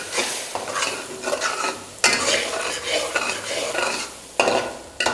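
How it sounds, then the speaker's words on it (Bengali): Onion paste sizzles in a pan for a Bihari-style chicken masala while a utensil stirs it, clattering against the metal. The steady frying hiss runs throughout and is punctuated by louder scraping bursts. "যে পেঁয়াজটা আমি এখন দিলাম সেটাকে কুক করতে"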